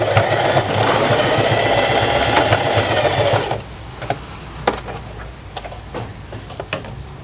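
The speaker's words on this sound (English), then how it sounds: "and then we sew here and make sure the strap is not twisted." A sewing machine stitches a strap onto a tie-front top in a fast, steady whir for about three and a half seconds, then stops, leaving faint handling clicks and taps.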